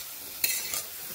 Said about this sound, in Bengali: বাকি তেলে কুমড়োগুলোকে ভেজে নেব। নেড়ে নিচ্ছি।